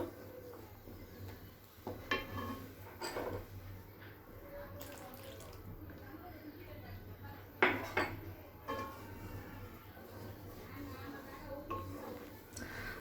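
A spoon stirs custard powder mixture into milk in a pot, a quiet scene of intermittent metal clinks and scrapes against the pot, with a faint voice in places.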